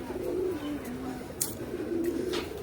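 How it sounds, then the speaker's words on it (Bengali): Fantail pigeons at a zoo in Mirpur, Dhaka, make soft, low, repeated coos with a few faint chirps over quiet background noise. "এই কবুতরের নাম হচ্ছে ময়ূরী কবুতর"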